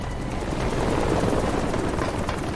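Helicopter in the video game Metal Gear Solid V, a loud, dense rotor roar with rapid thudding that runs steadily throughout, close and filling the scene.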